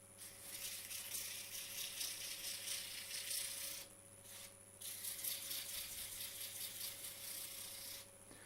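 Wood is sanded by hand with coarse 60-grit sandpaper in a quiet workshop: soft, steady rasping strokes with a few short pauses.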